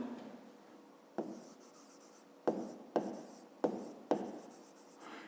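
Pen scratching across a notebook page while writing out a fifth-grade maths exercise, several short strokes with quiet pauses between, close and faint.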